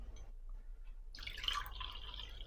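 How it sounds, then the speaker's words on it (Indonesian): Liquid poured from one glass into another during a color-changing chemistry demonstration, heard as a soft, close trickle and splash that begins partway through and continues steadily to the end. "setelah itu kita tuangkan isi gelas ketiga ini ke gelas yang keempat dan lihat apa yang akan terjadi"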